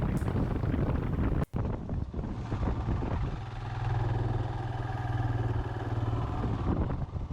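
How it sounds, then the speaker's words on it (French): A small Royal Enfield motorcycle climbs a steep, damaged mountain road with hairpin bends on Réunion island in first gear, its engine droning steadily beneath heavy wind buffeting the microphone, with a brief dropout early on. "Là je suis obligé de passer la première parce que ça devient trop difficile pour la petite moto."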